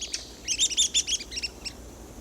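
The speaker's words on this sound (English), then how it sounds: "This small woodpecker, only 7 inches in length, has become famous for its finicky habits." A small woodpecker about seven inches long gives a rapid series of high, sharp chirping calls in short bursts, fairly close and clear over a quiet background hiss.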